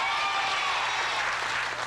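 Audience at a 1986 magic show in Bathurst applauding, a dense steady wash of clapping that holds evenly loud for a couple of seconds, slightly thinning at the end.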